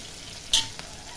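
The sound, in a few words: onions sautéing in a pan for mutton gravy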